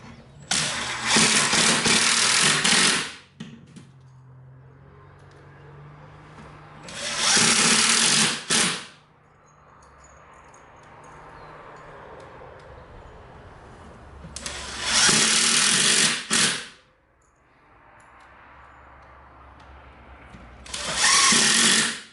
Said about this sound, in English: I'm going to go ahead and install these screws right now.